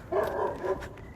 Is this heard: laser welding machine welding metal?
no